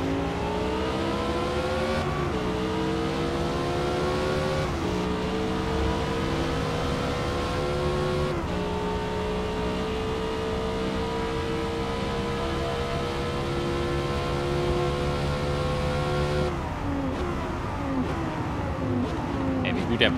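Lamborghini race car engine lapping Yas Marina Circuit in a racing video game, a loud, continuous high-revving roar with rising and falling pitch through gear shifts, braking and acceleration; a voice talks over it.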